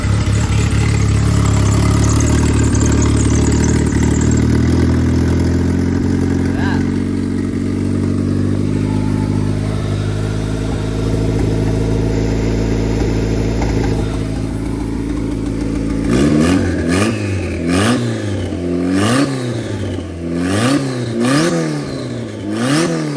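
A turbocharged Honda Civic with a B18B1 engine, stock injectors and stock ECU, idles steadily and loud for several seconds, then fires off a run of sharp revs rising and falling in quick succession, with no talk.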